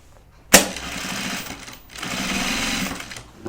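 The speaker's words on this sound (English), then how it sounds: "Occasionally I'm releasing the pressure of my presser foot so that it's not pushing the fabric." A sewing machine stitches through layered fabric of a project bag in a steady continuous run that starts abruptly, briefly slows mid-way, then resumes, close and clear with no talk.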